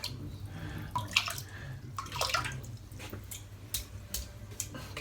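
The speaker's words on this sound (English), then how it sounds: "So let's dip the brush." Water splashes and trickles as a 24mm Black Wolf shaving brush is dipped into a basin and swished, with soft dripping and sloshing, close and moderately loud, no talking.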